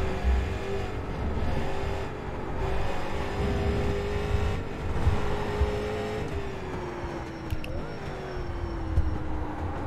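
Street stock race car in the iRacing game on the Texas Motor Speedway road course, engine droning steadily with gear shifts and pitch drops under hard braking, continuous and loud throughout.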